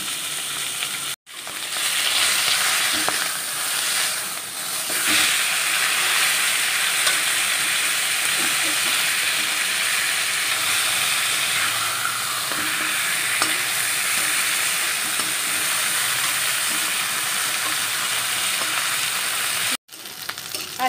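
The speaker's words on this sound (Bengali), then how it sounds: "মাছগুলো ভেজে নিয়ে লাস্টে মাথাটা ভাজবো" Fish pieces frying in hot oil in a home kitchen, then the fish heads, giving a steady loud sizzle that runs almost without a break, cut briefly twice by short drops. No one speaks.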